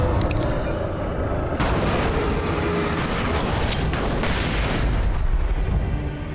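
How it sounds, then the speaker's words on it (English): Flashbang detonating in the video game Alan Wake Remastered, a loud booming burst followed by a second heavy blast and a rumbling, noisy tail, with no talk over it. "this is what the flashbang's for"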